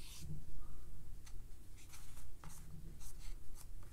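The chisel edge of a paintbrush makes marks on watercolor paper as faint, close scratchy strokes in short irregular bursts, alone in a quiet room.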